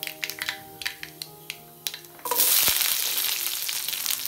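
Ginger, garlic, shallots and green chili dropped into hot oil in a pan for a crab dish, a few clinks and taps followed by a sudden loud, steady sizzle that fills the rest, with no talking.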